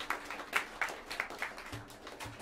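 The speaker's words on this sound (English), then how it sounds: "a round of applause for him" Sparse, quiet clapping from a small jazz club audience, a handful of distinct claps in an uneven rhythm that thins out over a couple of seconds, with faint low room sounds beneath.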